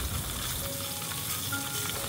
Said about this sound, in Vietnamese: Khi chiên chân gà các bạn đừng để lửa quá lớn nha